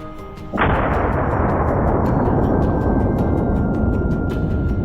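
A single loud hunting-rifle shot fired at a wild boar in a forest cracks suddenly and rolls into a long, dense rumbling decay that fades slowly, with no voices.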